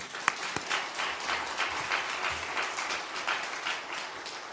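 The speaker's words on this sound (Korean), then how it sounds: "박수 한번 쳐줘요." Church congregation applauding at an evening revival service, a steady wash of many hands clapping at moderate level with a couple of sharper claps near the start, no talking.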